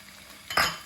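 A spoon scrapes briefly through tomato rice in a pan just after ghee and coriander leaves go in, one short metallic stir rising out of quiet kitchen background.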